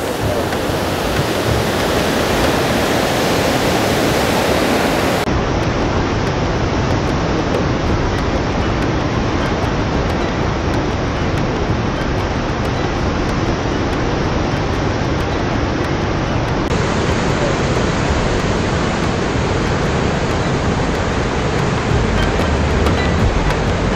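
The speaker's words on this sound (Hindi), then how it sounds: "अब हम खड़े हैं हुक्का फॉल्स पे। आप देख सकते हैं पानी का बहाव कितना तेज है" Huka Falls in Taupo, New Zealand, with fast-flowing water roaring loud and close as a constant, unbroken rush that fills the whole stretch with no voices over it.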